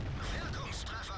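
Heavy tank guns fire in World of Tanks online battle, giving a dense, booming rumble of artillery-like blasts over continuous low engine and battle noise, with a player speaking over it.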